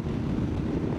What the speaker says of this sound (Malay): Angin dia kuat.